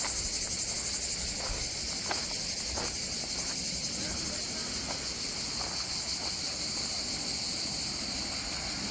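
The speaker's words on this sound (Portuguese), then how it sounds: "quando vocês ouvem as cigarrinhas" Dense, steady buzzing of cicadas near a beach, a continuous high drone with a few faint clicks and low wind rumble underneath.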